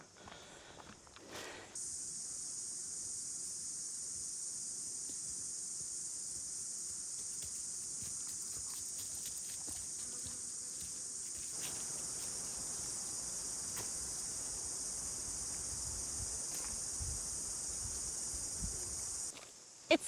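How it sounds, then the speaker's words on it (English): Cicadas buzzing in a southern hemisphere summer by a river, a loud, steady high drone starting after a moment and holding unbroken, with faint rustling underneath. "It's the southern hemisphere summertime and the cicadas are buzzing."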